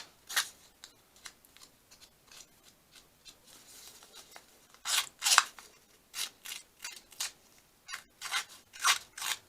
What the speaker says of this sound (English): I found that my scissors were actually working.